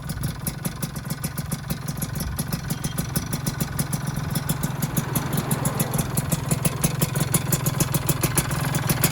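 A motorcycle engine fitted with an RTX premium full press exhaust and a box filter runs at close range with a steady, rapid pulsing beat that grows slightly louder and rises as it is revved, with no talk.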